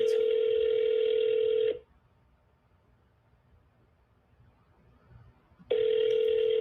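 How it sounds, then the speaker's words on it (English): A steady telephone tone sounds loud and continuous, cuts off for about four seconds of near silence, then returns at the end. "Michael, Karen, can you guys hear me and hear the phone?"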